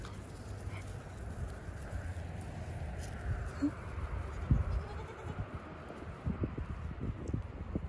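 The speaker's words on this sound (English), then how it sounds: "Here comes the goats, guys." Goats bleat a few times close by on an outing among farm animals, short cries breaking through soft shuffling and light hoof sounds.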